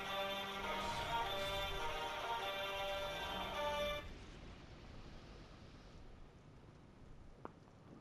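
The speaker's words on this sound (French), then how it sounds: "Désolé pour le petit dérangement du téléphone" A telephone rings with a bright repeating electronic tone for several seconds before cutting off abruptly, leaving faint background hiss.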